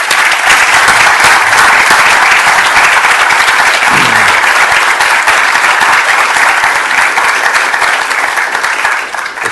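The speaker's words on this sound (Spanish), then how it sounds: "Recibámoslos con un aplauso." Sustained, dense applause from an audience welcoming writers at a novel biennial event at a Catholic university, loud and steady throughout with no talk over it, tapering slightly at the end.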